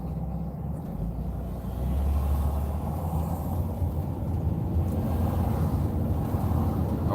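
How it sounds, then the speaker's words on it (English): Steady low road rumble and tire noise fill a moving car's cabin, a continuous drone that swells slightly as speed builds, with no talking. "Get to hear the noise of the open road or the fully trafficked road."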